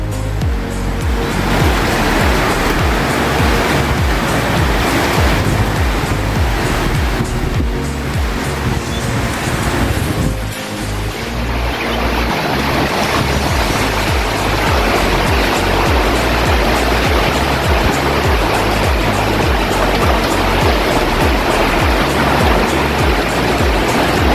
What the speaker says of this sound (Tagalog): pumapasok na yung tubig kasi dito